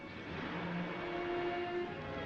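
A car engine drones steadily with a rising whine, loud and close, with no voices.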